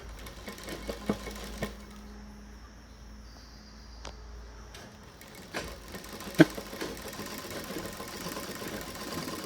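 A sewing machine stitches a hanging tassel for a blouse, its low motor hum running steadily for several seconds before stopping, followed by faint scattered clicks and handling sounds.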